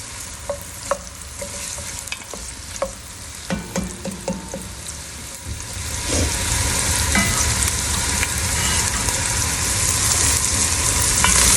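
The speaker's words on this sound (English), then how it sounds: "I just want the onions to just do their thing in the oil and melt out." Onions sizzle and fry in hot oil for a kale chili, with a few scraping stirs and clinks of a utensil early on before the sizzle rises into a loud, steady crackling hiss.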